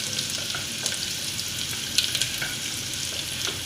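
Garlic frying in oil for pav bhaji, a steady close sizzle with intermittent scraping and stirring clicks from a utensil against the pan, no voices.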